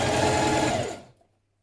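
A sewing machine runs briefly while stitching a shoulder seam on a garment top, a close, fast whirring burst about a second long that slows and stops abruptly.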